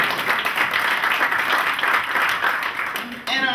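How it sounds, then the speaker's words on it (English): A luncheon audience at the annual Northwest Indiana Leader Luncheon breaks into steady applause, a dense wash of clapping that carries on for several seconds before fading out. "Do I hear a round of applause?"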